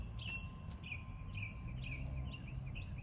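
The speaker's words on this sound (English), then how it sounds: "I hear birds chirp." Small birds chirp outdoors in a park, repeating short high tweets in a quick irregular series over a low steady background rumble.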